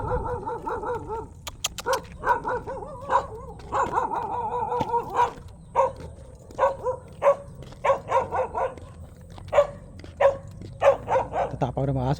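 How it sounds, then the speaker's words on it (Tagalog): Several dogs bark repeatedly near a rocky hillside path, sharp yaps and barks coming in an uneven string that thickens into a rapid run, while someone talks over them. "Tatapang na mga aso rito ah."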